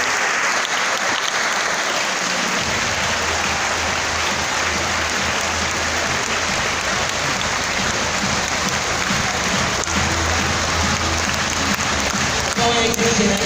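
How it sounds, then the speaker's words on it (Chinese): Sustained, steady applause from a large crowd welcoming a chairman and guests into a thirtieth-anniversary gathering in Taichung, continuing dense and unbroken throughout with a faint underlying hum. "掌声欢迎潘国正主任，以及我们各组间的前辈们"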